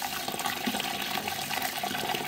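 Water poured into a cooking pot for boiling garlic and bay leaves for a hare stew, a steady close rushing splash lasting throughout without pause.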